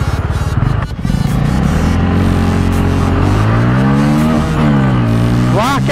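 A Bajaj Pulsar NS 160 motorcycle engine revs loud and close, its pitch rising and falling through several throttle blips with a rising sweep at the end, and no talk over it.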